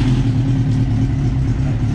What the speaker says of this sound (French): Ça démarre bien, hein. Ça fait un beau bruit.